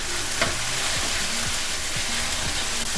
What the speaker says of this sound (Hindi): अदरक लहसुन जब इसके पेंदे पे चिपकना शुरू हो जाए तो समझे फ्राई हो गया